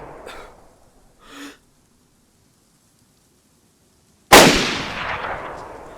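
A single sharp rifle shot from DayZ cracks loudly out of near silence and rolls off in a long echoing tail, preceded by two faint brief breaths or rustles.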